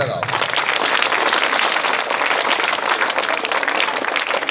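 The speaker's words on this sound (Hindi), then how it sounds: "चलो यह लड़का बहुत ही बेहतरीन उत्तर दिया है, इसलिए सब ताली लगाओ।" Students clapping together in a classroom during a maths lesson on factors and multiples: a loud, continuous burst of many hands clapping at close range, filling the whole stretch without pause.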